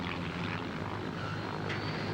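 A small aerobatic biplane passes overhead in the Northern Territory, a steady propeller-engine drone that stays loud and continuous throughout with no voices.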